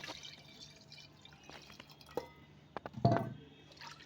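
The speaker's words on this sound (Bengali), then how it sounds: "দিয়ে দেবো পরিমাণ মতো জল।" Water is poured into a pot of doi mutton curry, heard as quiet scattered drips and a short liquid splash near the end, close by and with no talk.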